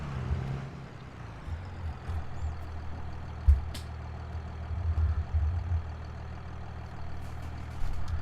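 A 1980s-series farm tractor engine runs in fifth gear while discing a field, a steady low rumbling drone with occasional sharp clanks and hisses.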